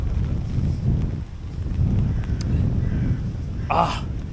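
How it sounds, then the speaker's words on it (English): Steady low roar of strong wind in Estonia buffeting the microphone, gusting throughout, with a brief higher rustle near the end. "It's bloody windy."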